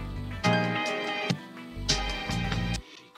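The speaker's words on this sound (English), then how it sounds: "you should end up with chops that sound like this" Chopped music sample slices triggered in quarter notes on an MPC, a sustained harmonic loop cut into evenly spaced segments with sharp transient onsets and a deep low end, played alone.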